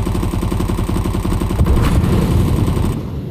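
Sustained automatic gunfire in Counter-Strike 2, a loud, rapid, steady rattle of shots that runs through the whole stretch before easing off at the end.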